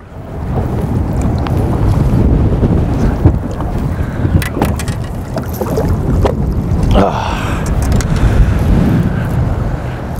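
Strong wind buffets the microphone on a boat while fishing for smallmouth bass with jerkbaits, a steady loud rushing roar with gusts that swell and ease throughout, and no talking.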